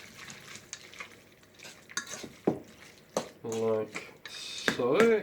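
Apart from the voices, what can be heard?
stirring ratatouille cannelloni filling in a bowl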